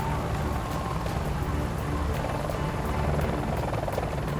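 A rescue helicopter hovers low overhead, its loud, dense rotor roar and rapid blade chop filling the air continuously and evenly from start to finish.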